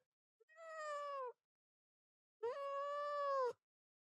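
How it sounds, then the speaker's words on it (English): Cat meowing angrily, two long drawn-out yowls close to the listener with a pause between them, the second louder and longer. "You have a cat."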